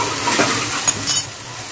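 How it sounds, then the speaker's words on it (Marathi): A spoon or spatula scrapes and stirs masala okra (bhindi) dusted with amchur powder in a pan, a short burst of soft scraping over a low sizzle, close by. "तर चांगला असं आता मिक्स करून घेऊया."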